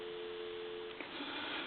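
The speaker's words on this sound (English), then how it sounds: "Dial tone." A steady, two-pitch telephone dial tone on a payphone line hums for about a second, then abruptly cuts off, leaving quiet line hiss.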